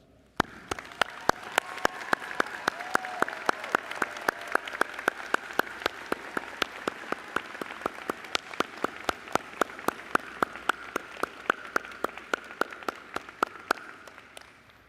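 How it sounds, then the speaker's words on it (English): Applause for graduates at a May 2025 commencement ceremony, heard as a sparse, fairly faint patter of claps with distinct individual hand strikes ticking along steadily over a soft bed of crowd clapping. "Let's give our graduates a strong round of applause."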